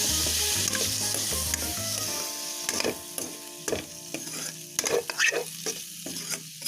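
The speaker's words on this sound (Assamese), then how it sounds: "অকণমান লাৰি বিলাহীটো অকণমান ভাজি ল'ম" Tomato with paneer sizzles and fries in a hot pan while a spoon stirs and scrapes, with a few sharp clinks against the metal.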